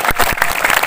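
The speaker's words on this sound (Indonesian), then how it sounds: "Ayo tepuk tangannya ikhlas semuanya." Dense applause from a large audience at an Isra Mi'raj religious gathering, a brief continuous burst of many hands clapping close and loud.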